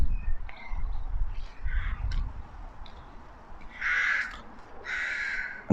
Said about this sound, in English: All the crows.